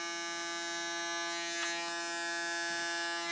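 An electric hair clipper buzzes steadily and close up as it cuts a woman's short hair into an extreme style, a constant whine with slight shifts as the blade moves through the hair, and no voices.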